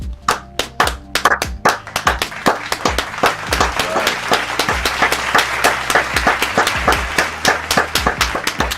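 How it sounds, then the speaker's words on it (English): Fans clap at a football watch party, sharp individual claps close to the microphone with rhythmic bursts that settle into a steady, slightly uneven beat. "We gotta clap it up for the big homie,"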